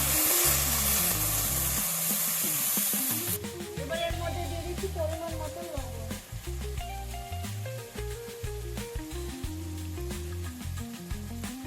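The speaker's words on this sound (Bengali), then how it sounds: "মশলাটাকে ভালো করে ভেজে নেব" Spice masala for a Bengali prawn malai curry fries in a pan, a steady loud sizzle that starts as a bright hiss and settles into crackling, with occasional stirring scrapes and background music throughout.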